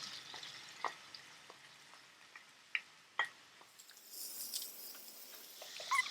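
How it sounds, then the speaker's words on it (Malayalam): Crushed onion sautés in coconut oil in a pan: a soft, steady sizzle with sharp ticks and crackles, brightening into a louder hiss near the end, with no voices. "ഈ ഉള്ളി ചതച്ചതിട്ട് വഴറ്റിയെടുക്കും"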